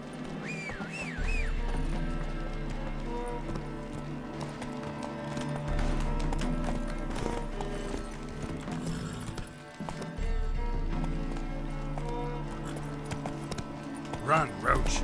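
Horse hooves clip-clop steadily in The Witcher 3 as the mount gallops, the rhythmic beats carrying through under a continuous music score, with a brief neigh-like sound near the end.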